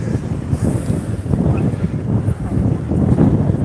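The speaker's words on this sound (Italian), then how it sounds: "c'è un vento della Madonna" Strong wind buffets the microphone outdoors, a loud, continuous low roar with gusty surges throughout, and no clear speech on top.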